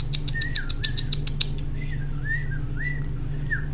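A pet bird gives a run of short rising whistled calls, bright and close, repeated steadily over a constant low hum, with no talking.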